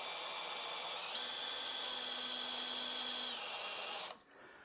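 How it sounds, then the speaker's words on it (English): Close, steady whine of an electric drill boring out a rivet head on a 1949 Ford F5 Coleman 4x4, running for about four seconds with a pitch lift midway before stopping abruptly. "I take my electric drill and I'm going to go ahead and drill that out"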